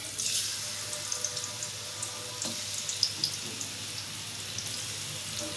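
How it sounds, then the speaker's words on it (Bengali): Tilapia fish fry in oil in a hot wok, a faint, steady hiss of sizzling with a few soft pops and spatters, no voices. "ফার্স্টে মাছগুলোকে ভেজে নেই।"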